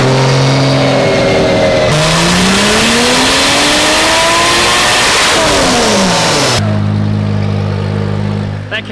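A built Toyota 2JZ engine runs on a dyno with the turbo at maximum boost, screaming loudly as its pitch sweeps up at wide-open throttle. The sound drops back to a lower, steady drone near the end.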